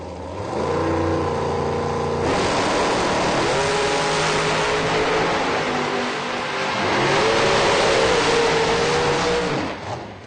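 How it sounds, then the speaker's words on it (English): Drag racing cars launch side by side down the strip at Orlando, Florida, their engines roaring loud and close, with rising harmonic whines as they pull through the gears over about ten seconds. "Both cars bump in, and here we go racing."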